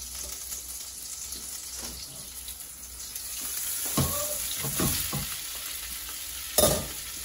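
Beef fries in a hot pan with oil and butter, a soft continuous sizzle broken by a few louder stirring and scraping bursts, including a sharp clatter near the end.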